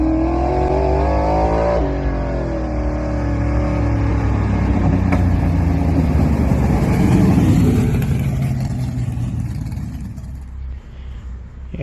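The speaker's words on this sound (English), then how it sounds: "the car was kind of stumbling off the line there" A carbureted Chevrolet Nova launches off the line at a drag strip, stumbling before its engine note climbs into a loud, rising revving roar that fades as it pulls away.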